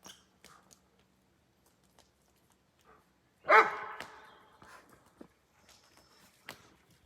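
A dog barks in a yard near an Alaskan log home. There is a single loud, sharp bark midway through, surrounded by faint scattered knocks and footstep-like noises. No one speaks.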